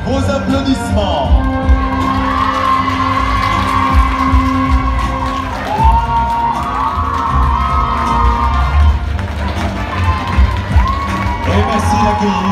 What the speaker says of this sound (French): Vos applaudissements